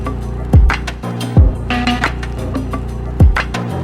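A spacey electronic beat plays with deep kick drums hitting at intervals under layered synth tones and crisp percussion.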